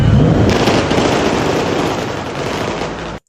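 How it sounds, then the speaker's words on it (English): SWAT officers fire at the Batmobile in a film trailer: a dense, loud, continuous barrage of rapid gunshots that blur into a sustained crackling roar before cutting off abruptly. "So we have the SWAT guys right here just unloading on the Batmobile, just open firing."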